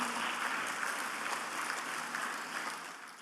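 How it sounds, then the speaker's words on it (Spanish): A church congregation applauds, a steady wash of clapping that holds evenly for a few seconds before easing slightly at the end. "Si le va a dar el aplauso, déselo al Señor fuerte, por favor"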